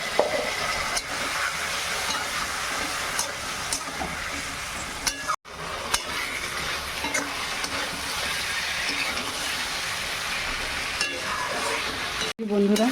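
A spice mix is stirred and sautéed in a pan with a steady sizzle and scraping stir strokes close by, broken by two brief dropouts.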